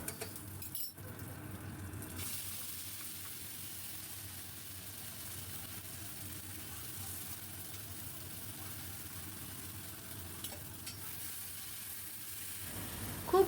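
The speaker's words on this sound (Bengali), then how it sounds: "খুব ভালো করে নাড়াতে থাকবো যতক্ষণ পর্যন্ত জলটা টেনে না নেয়" A spatula stirring fried spice paste with chopped cashews and raisins in a pan, with continuous scraping and soft clinks over a low sizzle that run evenly before a brief louder clatter at the end.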